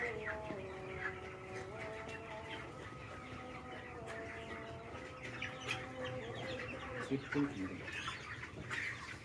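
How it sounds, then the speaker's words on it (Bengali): Broiler hens clucking steadily amid farmyard noise, with people talking nearby throughout. "মুরগি যে ঘেরত ঘেরত করছে"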